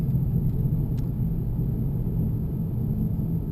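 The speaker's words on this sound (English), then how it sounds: "But just notice how quiet the LS 430 is." Cabin of a Lexus LS 430 cruising on winding country roads in the North Georgia mountains, a steady low rumble of engine and road noise, smooth and subdued with no voices.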